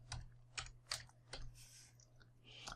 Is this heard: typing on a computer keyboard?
yes